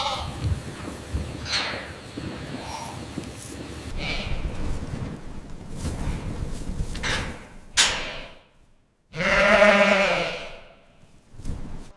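Goats bleat loudly on a commercial goat farm during sorting. One long, prominent close bleat stands out near the end over a continuous barn rumble, and a door slides or clatters in the background.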